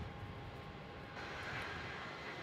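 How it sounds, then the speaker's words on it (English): Qatar Airways jet rolling onto the runway at Melbourne Airport, a steady distant engine roar that swells a little halfway through, with no talk. "Yep, he's just rolling onto the runway now."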